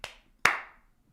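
Two sharp hand claps ring out crisp and close, about half a second apart, each with a short bright decay.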